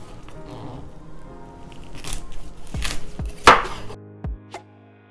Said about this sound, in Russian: И теперь я покажу, как правильно ее нарезать на стейки.